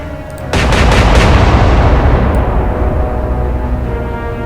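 A broadside from warship gun turrets in the Atlantic Fleet video game erupts as a loud burst of quick overlapping booms, then lingers as a deep rumbling roar that slowly thins out, heard alone without speech.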